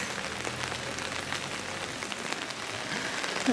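Steady rain pattering on surfaces along the Camino de Santiago pilgrimage route, a dense continuous hiss of drops with scattered louder splashes, heard alone without voices.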